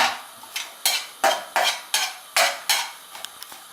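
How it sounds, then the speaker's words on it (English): Leeks are stirred in olive oil in a pan, with a regular series of about eight distinct scraping clacks of a utensil against the pan over a faint sizzle, close and clear. "We're stirring the leeks up."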